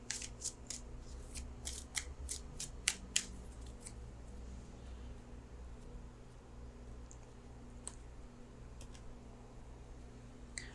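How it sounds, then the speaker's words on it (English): Tarot cards are handled during a reading: a quick run of crisp card clicks and snaps in the first few seconds, then occasional faint ticks over a low room hum. "And so let me pull an outcome card."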